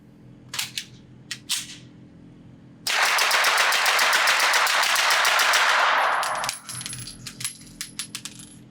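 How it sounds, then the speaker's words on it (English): Staccato P 2011 pistol with a threaded barrel built for suppressors, fired as a rapid string of about twenty shots in a few seconds at a range, loud and close, preceded by handling clicks and followed by brass clinking. "let me load up one of these 22 round magazines to full capacity and just see how fast I can pull this trigger"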